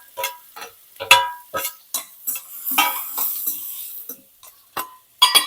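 Capsicum being stirred and fried in a pan, with repeated sharp scrapes and clinks of a spoon against the metal over a faint sizzle, and irregular close strokes with no talking.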